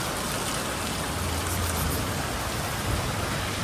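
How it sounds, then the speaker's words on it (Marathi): Heavy rain pours down during a monsoon downpour, a steady dense hiss with a low rumbling undertone that holds at an even loudness throughout, with no talk. "पाऊस एवढ्या जोरात चालला"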